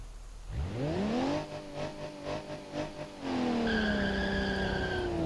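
Tyres of a base-model 1980s ETK i-Series in BeamNG.drive squeal through a failed factory burnout attempt, a rising engine rev then pulsing screech before a sustained high tyre whine.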